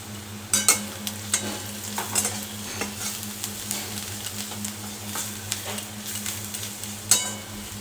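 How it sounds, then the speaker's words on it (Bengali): Chicken fries in a pan seasoned with ground black pepper, giving a steady low sizzle. Light scrapes of stirring and occasional utensil clicks sound against it, up close. "এবার দেখো গোলমরিচের গুঁড়ো দিয়ে দিচ্ছি, একটু বেশি পরিমাণেই দিচ্ছি"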